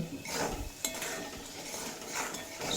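Ingredients for vegetarian pea ghugni are stirred in a pan: close, continuous scraping and light clinks of a metal spoon against the pan, with no talking.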